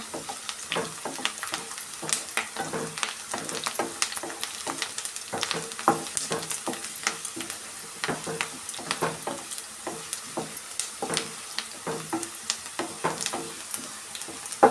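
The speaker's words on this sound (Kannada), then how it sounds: "ನೋಡಿ ಈ ಥರ ಫ್ರೈ ಮಾಡ್ಕೊಬೇಕು ಇನ್ನೂ ಒಂದು ನಿಮಿಷ ಫ್ರೈ ಮಾಡ್ಕೊಳ್ಳೋಣ" Ingredients for tomato gojju fry in a pan, producing a soft, steady sizzle broken by frequent rhythmic scrapes and taps of a spatula being stirred, fairly close and unaccompanied by talk throughout.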